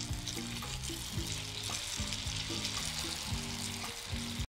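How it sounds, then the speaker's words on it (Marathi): Kachori pieces frying in hot oil, a steady close sizzle and crackle with soft bubbling throughout, no voices, cutting off abruptly at the end. "तळणीसाठी इथे तेल गरम केलेलं आहे. यामध्ये आपण हे कचोरी सोडूयात एक एक."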